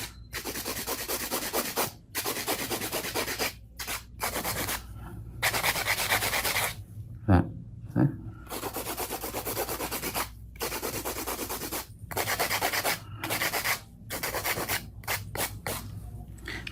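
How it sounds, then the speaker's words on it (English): Steady rasping strokes of a hand file scrape back and forth in bursts across a fingernail surface, broken by short pauses and a couple of light taps. "go through a hand file, the thickness, just even out the surface area, mainly"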